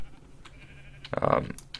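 Short bleat from a sheep on a small wool farm in the Minecraft video game, a single brief call rising briefly over quiet background clicks.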